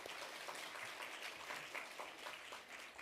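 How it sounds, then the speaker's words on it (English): Audience at an awards ceremony applauding, a steady wash of many hands clapping, faint and distant-sounding throughout. "Let's give them a round of applause for that."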